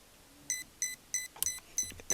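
A Hobbywing Quicrun Mini24 brushless ESC emits a series of short, sharp electronic beeps in an even rhythm during setup, about six tones close by, with one slightly different chirp in the middle.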